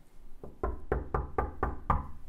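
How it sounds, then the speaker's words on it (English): Six firm knocks on a door, evenly spaced and close, loud and dry with nothing else around them. "There's gonna be a knock on the door."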